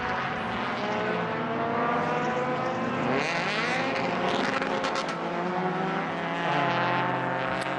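A 2005 MINI race car engine roars continuously at full throttle while the car is upside down in a rollover, dense and loud throughout with a rising surge near the middle, no talk.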